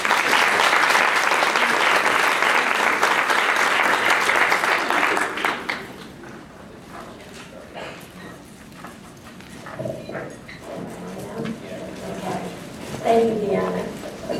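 Audience applause greets two presenters at a caregivers' education session sponsored by the Alzheimer's Association, a loud dense clapping wash for about five seconds that fades out, followed by quieter room murmur and movement.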